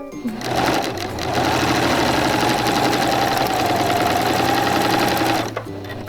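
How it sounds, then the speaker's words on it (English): A serger sewing machine gathers ruffle fabric in one long, loud, steady mechanical whir that starts after a brief pause and runs for about four seconds before stopping. "go ahead, stop ruffling, pull out your fabric, sew on another length of ruffle, and then continue ruffling"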